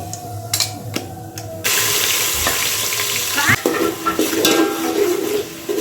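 Oil heats in a pan for pulao: a few utensil clatters open the clip, then a loud, steady sizzle takes over and runs to the end, with no talking.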